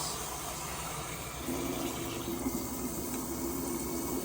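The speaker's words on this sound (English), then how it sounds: "I am first gonna start with the rice and wash it" Rice being rinsed in water at home, a steady running-water hiss that thickens midway as the flow changes, continuous and fairly close with no voices.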